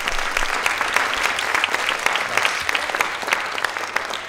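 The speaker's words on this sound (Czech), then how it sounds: "Marta Kano, můžete jí přidat pár potlesků" An audience at a film festival gala applauds continuously, with dense, steady clapping from a full hall and no talk.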